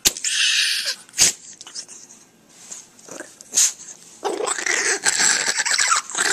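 A chihuahua growls and snarls almost continuously at close range, a rough loud rasp with brief breaks and sharp yaps.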